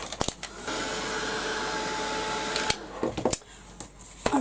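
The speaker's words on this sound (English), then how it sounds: "So I'm going to give that a quick blast with the heat gun." A heat gun blows a steady, loud airflow hiss for about two seconds, framed by clicks and handling knocks before and after, used on a craft project with no talking.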